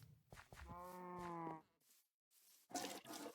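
Cattle moo during a milking scene in the farming game The Fiefdom, giving one long, loud harmonic low and then a rougher, shorter call, with a noisy burst of game sound after a short gap.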